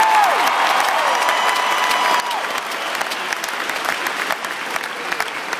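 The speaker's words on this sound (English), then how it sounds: "So let's give them a round of applause." Steady applause from a sizable crowd at a Dallas Mavericks ring ceremony, clapping continuously and fairly loud, easing slightly in intensity partway through.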